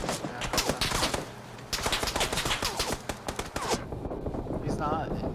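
Rapid bursts of video game gunfire crackle in dense, repeated volleys, with a voice talking over the shots throughout.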